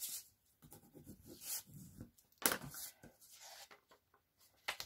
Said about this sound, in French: je vais venir bien appuyer pour marquer les plis